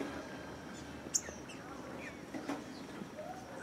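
Birds call in a garden in November, a few short chirps and squawks rising faintly above steady outdoor background noise, brief and scattered rather than continuous.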